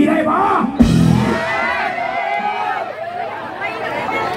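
A crowd at an outdoor concert in Nakhon Pathom shouting and cheering loudly and continuously, a dense wall of yells and whoops with voices talking over it.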